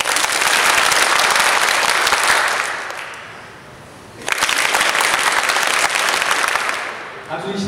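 A university lecture audience bursts into loud, dense applause on cue, stops sharply for about a second, then starts again just as full before cutting off abruptly.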